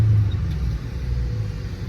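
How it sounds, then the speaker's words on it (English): A Chrysler 300C SRT engine downshifts, a steady, loud low rumble that briefly swells at the start and then settles under faint cabin noise, with no voices. "Them downshifts is crazy."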